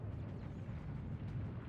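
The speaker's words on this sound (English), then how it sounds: "The gun turning around, blasting that war boss" Heavy tank cannon fire and explosions from a Baneblade battle in Dawn of War 2, a dense, continuous low rumble of booms rolling steadily without letup, loud and close, with no clear breaks between blasts.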